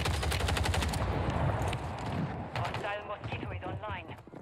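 Loud rapid automatic fire from the FJX Horus SMG in a video game on Rebirth Island, a fast clattering burst that carries through most of the moment before voices take over.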